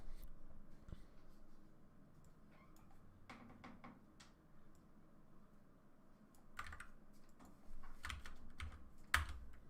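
Soft keyboard typing at a computer, irregular clusters of key taps that grow busier and slightly louder toward the end, close but faint, no voices.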